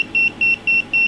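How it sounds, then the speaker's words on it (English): A Mustool MT11 multimeter gives a high, steady electronic beep four times in an even rhythm while measuring high voltage, each tone short and clear over a faint background hum. "It's beeping when you get that high."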